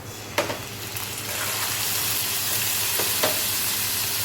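Onions frying in oil in a pan, a steady close sizzle with a few sharp stirring clicks and scrapes, no voices.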